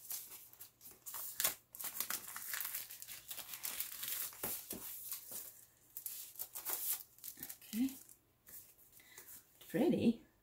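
Paper being crinkled and torn while unwrapping items from a jewelry subscription box, close and continuous rustling with a few sharper tears, with someone talking briefly near the end.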